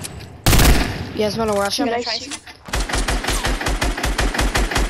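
Rapid automatic gunfire in the Fortnite video game, a steady run of sharp repeated shots dominating the second half, after a brief burst and a voice talking over the start.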